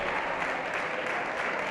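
Deputies in the Spanish parliament chamber applaud in a sustained, dense clatter of many hands clapping at once, steady and fairly loud throughout.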